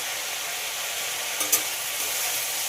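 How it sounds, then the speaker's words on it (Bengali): Steady, close sizzle of potatoes frying with onions fills the clip, with a brief scrape of stirring near the middle. "পেঁয়াজের সঙ্গে আলুটাকে খুব ভালোভাবে ভেজে নিতে হবে।"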